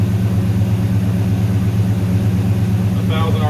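A 6.1 Hemi V8 swapped into a 1970 Dodge Coronet idles slightly high at about 1,000 RPM, a steady close low rumble running throughout, with a brief higher whine near the end.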